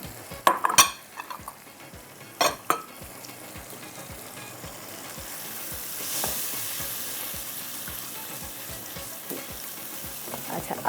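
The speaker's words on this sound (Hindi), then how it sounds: "अब इसके अंदर हम डाल देते हैं ये वाला पानी जो ब्लेंडर के अंदर से निकला था" Water from a blender poured into a frying onion-yogurt masala for makhni handi kofte, sizzling steadily for about ten seconds, with a few metal utensil clinks and stirring scrapes early on and no one talking.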